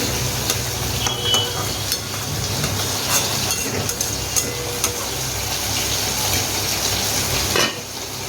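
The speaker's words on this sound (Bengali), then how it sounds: "তাড়াহুড়োতে ডিমের আলুটা ভাজতে ভুলে গেছিলাম, তো এখনই দিয়ে দিলাম।" Potatoes fry with spices in hot oil for Bengali egg curry, a loud continuous sizzle with scraping stirs and occasional sputters throughout.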